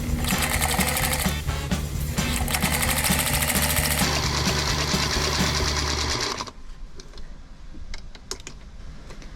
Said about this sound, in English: Am I supposed to start sewing this down from the top?